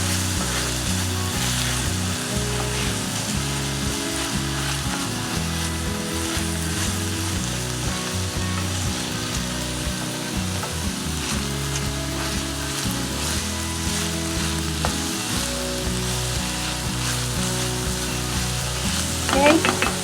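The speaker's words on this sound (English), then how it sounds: "We're going to add the garlic. And stir that in and give it about 30 seconds just until it's fragrant." Ground beef and garlic fry in a skillet with a loud, steady, dense sizzle throughout, while occasional scrapes of stirring show through near the end.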